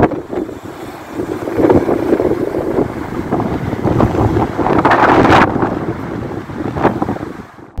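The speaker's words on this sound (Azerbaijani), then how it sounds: "Belə demək olarsa, güclü külək Bakının altını üstünə çevirib" Strong gusting wind blows through a street in the Narimanov district of Baku at night, a loud continuous roar with buffeting surges and rushing noise throughout.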